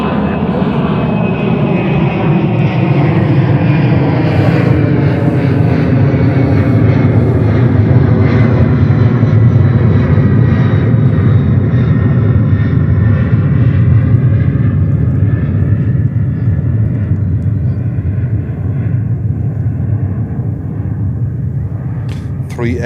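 A heavy jet roars past at JFK Airport, loud and close, its broad rumble sweeping with falling engine tones as it passes, continuous for over twenty seconds.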